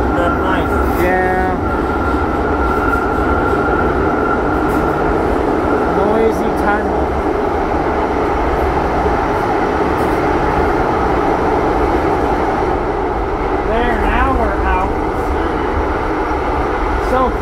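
A CTA Siemens Blue Line rail car in Chicago carries its riders in a continuous loud interior rumble, with wheel and track noise and occasional squeals. People talk over it throughout.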